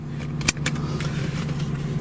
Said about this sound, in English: Nice, healthy growl out of that V8.